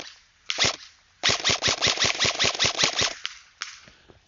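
Dean's wired 11.1 volt airsoft gun firing in a 100-foot headshot test: sharp close snaps, a lone shot, then a rapid burst of about a dozen, and a couple of trailing single shots.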